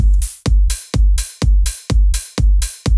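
A house drum loop pounds steadily: a deep layered kick on every beat with a bright, hissing open hi-hat filling each gap between kicks, loud and close with no voices.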